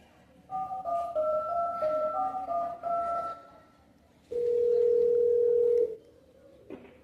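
Mobile phone call tones during a callback attempt in a Hindi stage play: a wavering two-note ringback pattern for about three seconds, then a single steady tone for about 1.5 seconds, fairly loud and alone with no talk.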